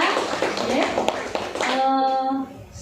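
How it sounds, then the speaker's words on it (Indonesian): A crowd claps at a school teacher-training event, brief scattered applause under a voice before a sustained tonal voice or hum takes over near the end. "Tepuk tangan buat kedua calon guru penggerak kita"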